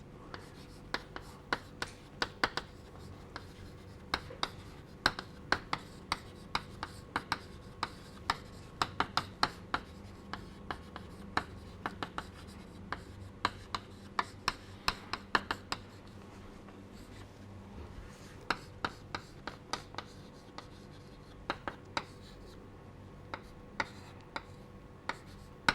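Chalk or pen writing during a lecture on premixed flame acoustics, heard as many sharp, irregular taps and scratches scattered throughout, fairly faint against a quiet room hum with no talking.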